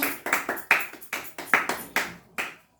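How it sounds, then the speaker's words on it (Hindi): Children clap their hands in a quick, uneven rhythm of about eight sharp, close claps that fade slightly toward the end. "ताली मारो विवेक लाई ताली मारो"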